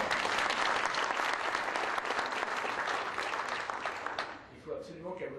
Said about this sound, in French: Vous pouvez applaudir, d'accord?